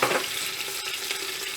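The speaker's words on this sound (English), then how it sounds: "I'll add one roughly chopped onion and fry it in it" Roughly chopped onion frying in about a quarter cup of hot oil for lamb or mutton vindaloo, a loud dense sizzle that bursts at the start and then settles into a steady hiss with light stirring.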